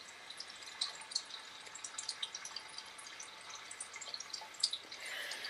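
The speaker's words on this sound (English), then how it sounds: "That's the noise of her fountain." Soft, steady trickle of running water from a small fountain, with faint drips and splashes, quiet and close.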